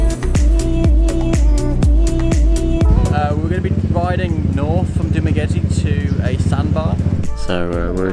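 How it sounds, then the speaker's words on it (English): Motorbikes ride along in the Philippines before parking. An engine putters in short, even pulses, then settles into a steady running drone, with people talking over it throughout. "Just about to park our bikes up, and Rachel gave a little bit of throttle"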